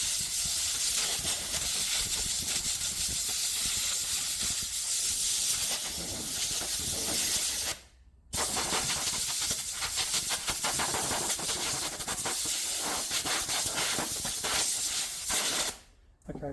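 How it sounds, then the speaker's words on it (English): Compressed air blasts from the inside of a Honda mower air filter outward, a loud continuous hiss close by, cut off briefly twice. "we want to blow from the inside of the filter out with the compressed air"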